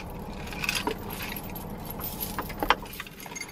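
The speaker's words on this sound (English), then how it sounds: "getting the keys ready" A set of keys jingles in small metallic bursts, clearest around one second and again near the end, close by over a low steady room hum.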